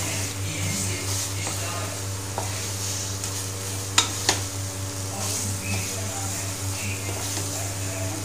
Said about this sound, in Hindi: थोड़ी देर भूनेंगे आलू को, इसे भूनेंगे